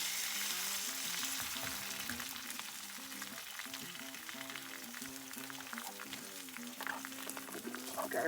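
An egg fries in a pan on a hot tent stove during a solo canoe trip, a steady close sizzle and crackle running throughout with faint low hum beneath.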